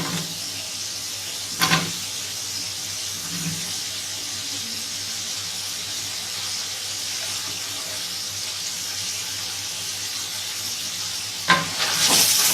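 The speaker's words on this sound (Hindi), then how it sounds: "अब हम इनको अच्छे तरीके से भूनेंगे।" Thick tinda pieces frying in rice masala, a low even sizzle running throughout, with louder clattering stirs at the start and near the end and no voices.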